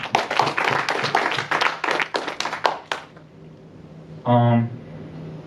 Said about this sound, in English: Give yourselves a round of applause for showing out tonight.